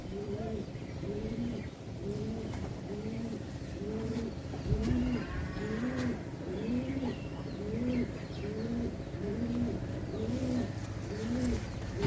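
Domestic pigeons in a keeper's loft in Malda, Pakuahat coo in a steady, repeating rhythm, with soft overlapping calls rolling on continuously throughout at close range.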